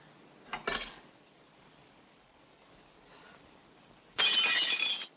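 Glass shattering in a 1945 film scene: a short crack, a quiet stretch, then a loud, bright burst of breaking glass near the end, with no voices.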